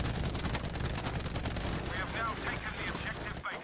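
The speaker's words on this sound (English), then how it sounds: "Apparently someone in here is shooting." Rapid automatic gunfire from a Battlefield 5 battle, dense, close bursts of rattling shots pouring almost without pause, with a voice speaking briefly over the shooting.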